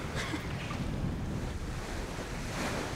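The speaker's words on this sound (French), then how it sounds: "Le Mistral souffle à plus de 60 km/h." Strong Mistral wind gusting over open sea waves, blowing past 60 km/h around a sailboat; a steady roar of surf and buffeting wind noise on the microphone, loud and continuous with no talk.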